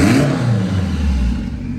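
Car engine revving on a single fuel injector during tuning of acceleration enrichment, a quick throttle rise and fall with a mid-pitched engine note and light mechanical clatter, heard up close.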